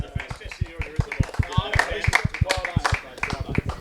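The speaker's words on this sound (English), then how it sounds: "Big round of applause." A crowd at a backyard cricket match claps in sharp, rapid, uneven bursts, close and loud, with voices mixed in among the applause.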